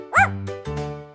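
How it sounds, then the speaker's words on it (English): Dog giving a short yip followed by two quick softer barks, close and clear over a faint tonal hum. "Dog."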